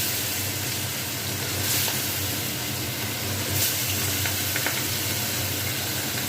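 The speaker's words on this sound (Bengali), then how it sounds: "তেল গরম হয়ে গেছে, মাছগুলো ভেজে নেব।" Turmeric-and-salt-rubbed fish frying in hot oil in a wok, a dense continuous sizzle and hiss heard up close without talk.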